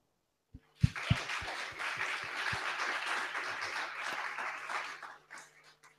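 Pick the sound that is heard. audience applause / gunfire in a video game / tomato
audience applause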